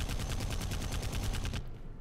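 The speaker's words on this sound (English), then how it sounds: "They're gonna shoot me." Gunfire in the video game Secret World Legends, a rapid automatic burst of about a dozen evenly spaced, loud shots that stops abruptly after a second and a half.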